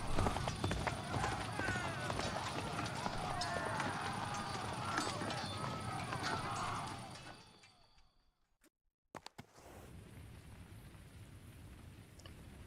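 Rhythmic clip-clop of a horse galloping in Kingdom Come Deliverance 2, steady and close for about seven seconds before fading into near silence, then a few brief knocks and a low ambient hum.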